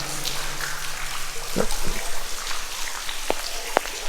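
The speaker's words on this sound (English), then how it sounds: "It is like it's having a heavy rain shower down here." Heavy water dripping and splashing inside a wet, disused railway tunnel, a continuous rain-like patter with several louder individual drops landing nearby, echoing in the enclosed space.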